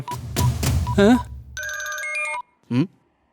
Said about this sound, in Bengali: হ্যাঁ এসিপি রমেশকে ফোন করো।